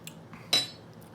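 A metal spoon clinks once, sharp and close, against a dish while half a teaspoon of hot sauce is measured out, with a few faint ticks before and after in a quiet room.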